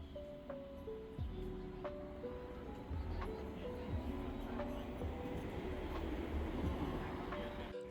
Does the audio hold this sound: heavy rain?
no